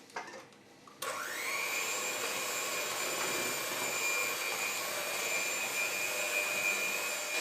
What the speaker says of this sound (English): Then I'm gonna give it a nice whisk now.